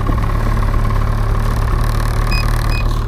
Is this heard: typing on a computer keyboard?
no